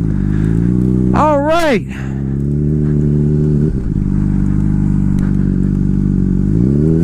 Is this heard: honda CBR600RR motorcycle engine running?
yes